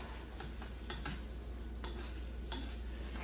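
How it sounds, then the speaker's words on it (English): Mushrooms with black sesame seeds and green onions are mixed in a pan, with soft, repeated scraping and stirring strokes over a low, quiet sizzle. "And finally add in the green onions. And mix all that together."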